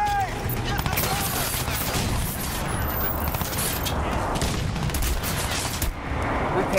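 Sustained rapid gunfire and explosions from a retro video game's combat, a dense continuous barrage filling the whole stretch at steady loudness, with voices faintly mixed in.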